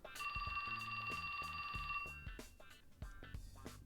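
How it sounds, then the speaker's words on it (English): A cell phone rings alone at close range, a steady electronic ringtone warbling for about two seconds before cutting off, then repeating in short bursts. "That's my phone. That's my phone."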